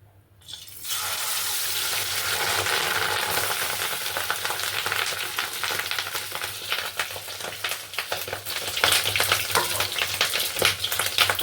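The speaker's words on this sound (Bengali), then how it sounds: "তাই দিয়ে দেবো আমি ডিমটা ভাজার জন্য সাদা তেল" Fish roe frying in white oil in a pan, a steady loud sizzle and crackle that starts abruptly after a brief silence and continues with popping spatters throughout.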